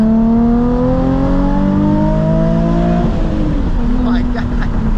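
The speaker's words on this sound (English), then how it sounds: "this exhaust sounds amazing" A Nissan 350Z HR engine revs loudly with rising pitch, then drops sharply as it downshifts, the aftermarket exhaust rumbling and crackling up close.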